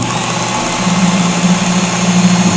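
A Work Sharp Ken Onion MK2 belt knife sharpener running steadily with a loud, constant motor whine and belt hum, close up with no talk.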